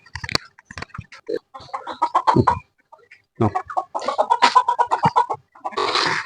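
Native chickens cluck in bursts at a grass-fed backyard chicken farm beside a goat shed, loud and close, with short gaps of quiet between the calls.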